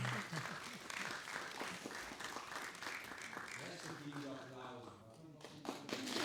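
Applause from a school debate audience, a steady wash of clapping running throughout at moderate level, with voices mixed in underneath.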